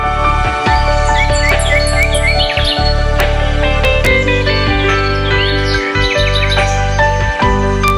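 Many birds chirping and trilling in a garden planted with drumstick trees, a dense, steady chorus of overlapping tweets and calls, fairly close, with no voices.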